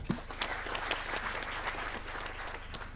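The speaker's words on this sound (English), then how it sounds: "Let us give Moya a better clap." Audience clapping at a COP28 climate campaign launch event, a continuous crowd patter of many hands at moderate distance with scattered louder claps, no clear talk.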